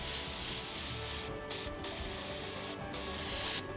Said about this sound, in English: I think I'm just going to use the clear coat and put a couple coats of that on both sides